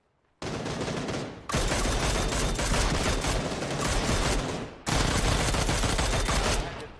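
Sustained automatic gunfire from a battle royale video game, loud, dense bursts filling nearly the whole stretch with two brief lulls between volleys, no talk over it.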